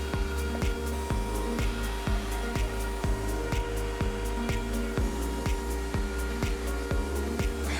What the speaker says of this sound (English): Then we fly cut both sides of the MDF spoilboard.